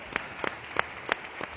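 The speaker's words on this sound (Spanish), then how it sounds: "le recibimos con un aplauso" An audience welcomes a speaker named Eduardo at a gastronomic tourism talk with clapping. Five distinct, evenly spaced claps ring out at a moderate level over a soft background, with no voices.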